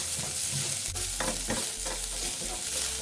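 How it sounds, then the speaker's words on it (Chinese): Chopped chicken pieces are stir-fried in a wok with minced garlic, no added oil, making a loud, crackling sizzle broken by repeated scraping strokes of a utensil against the pan. "将切好的鸡块加入快炒"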